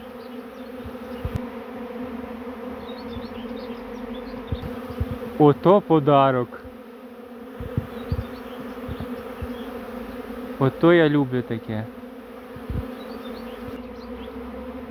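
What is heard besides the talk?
honeybee swarm buzzing as it enters a hive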